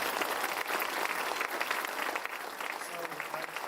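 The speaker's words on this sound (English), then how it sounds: "let's give Lisa another round of applause" Steady, dense audience applause at a community accelerator and childcare business ribbon cutting, many hands clapping continuously and fairly loud throughout, with faint voices mixed in.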